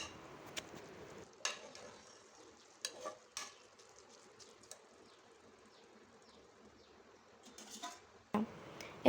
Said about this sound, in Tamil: இப்போ ரைஸோடு சேர்த்து எல்லா வெஜிடபிள்ஸையும் நல்லா கலந்து விட்டுக்கோங்க.